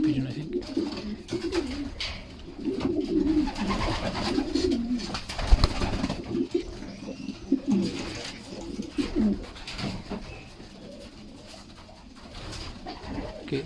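Pigeons cooing in a loft of young birds, a dense, continuous chorus of low throaty coos from several birds close by, with occasional wing flutters and background noise.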